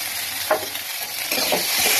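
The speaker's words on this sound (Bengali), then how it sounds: "তো এবার এটাকে ভেজে দিচ্ছি ভালো করে" Onion and spices fry in a little oil for an egg and pointed gourd curry, a loud, close, continuous sizzle with a couple of soft stirring scrapes.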